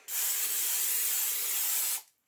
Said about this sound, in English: I use olive oil nonstick cooking spray because it's easier and it makes less of a mess.